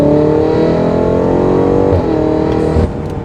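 Engine of a Rosso Corsa BMW M5 revving hard, a loud, steady roar climbing in pitch close to the microphone, with a brief shift-like dip midway, nobody speaking over it.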